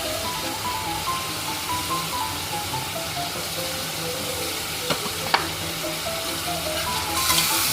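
Spices with roasted cumin powder sautéing in a pan for katla fish curry, a constant close sizzle with occasional stirring scrapes and a few sharp clicks of the utensil.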